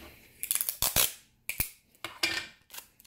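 Scissors snip through paper while cutting out a craft piece, a series of sharp close crisp cuts in irregular bursts, some quick double snips, with quiet gaps between.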